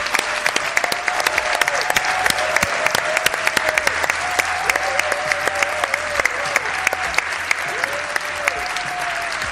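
Dense, sustained applause from a large crowd at a public event in Zamora, loud and steady throughout with sharp individual claps, a faint whistle-like tone drifting above the clapping.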